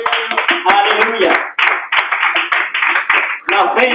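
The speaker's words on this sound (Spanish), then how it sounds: "Den un fuerte aplauso al Señor." Church congregation applauding during a Spanish-language sermon, steady clapping that fills the few seconds, briefly dipping and resuming, with no voices over it.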